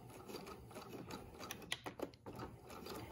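A sewing machine runs a plain seam along fabric edge for a French seam, a soft steady mechanical whir with a few brief louder clicks partway through, fairly quiet throughout.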